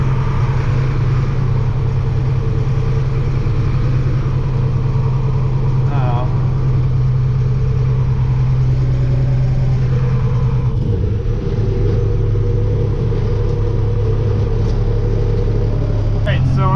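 A Ford truck towing a trailer on the way to a job site produces a continuous low engine rumble and road drone from inside the cab, loud and steady throughout.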